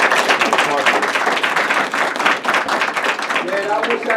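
An audience claps loudly and steadily, a dense patter of many hands.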